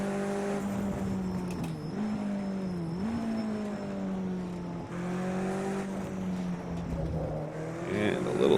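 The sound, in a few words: road car engine straining uphill in Project CARS 2 video game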